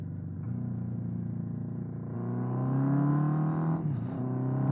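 A 1979 Honda CB750F Super Sport engine runs steadily up close, a low rumbling idle with an even harmonic drone that rises slightly in level and pitch partway through, with no voices.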